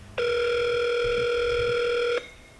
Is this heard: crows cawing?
no